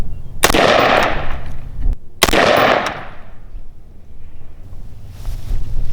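Two sharp, loud AR-15 rifle shots fired outdoors while zeroing at 10 yards, about two seconds apart, each with a broad crack and a fading tail, over steady wind rumble.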